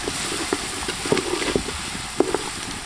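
Onion with crushed garlic and crushed ginger sautés in a pan for a Kerala-style fish molee, giving a low, steady sizzle broken by small spoon taps and stirring clicks, fairly quiet and close.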